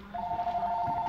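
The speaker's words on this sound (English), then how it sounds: "Hold up, I'm getting a phone call." An incoming call rings on a phone inside a house as a steady electronic tone that holds for about a second, with no voices.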